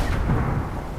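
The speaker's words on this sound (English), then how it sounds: "See those explosions." Explosions in the video game Ghost Recon Breakpoint, a heavy low boom opening the moment and rolling into a fading rumble, loud and near.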